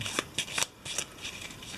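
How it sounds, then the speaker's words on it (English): Several quick riffle shuffles of a deck of damage cards during a Mansions of Madness board game, crisp papery bursts coming in an uneven rhythm, close and fairly quiet with no voices. "There's the damage deck. Let's do shuffle."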